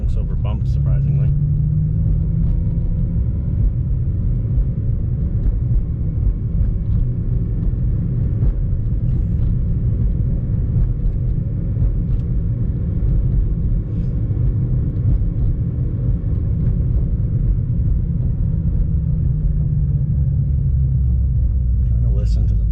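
A car with modified H-Street suspension drives over bumpy streets, heard from inside as a loud, steady low rumble of road and engine noise, with no distinct clunks.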